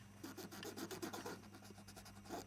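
A cloth soaked in isopropyl rubbing alcohol is rubbed over iPod Touch parts during a flex ribbon replacement, giving a steady, close scrubbing rasp throughout with a constant low hum underneath.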